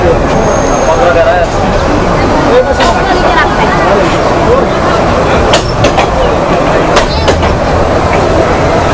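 Train at Kaunia railway station in Bangladesh, a loud close rumble with rattling wagons and intermittent clanks, with someone talking over it throughout.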